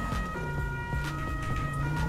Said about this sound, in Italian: ora ragazzi attiviamo le sirene e si inizia ad andare là dentro